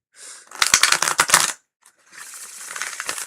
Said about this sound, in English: I need the most beautiful shuffle for Preston.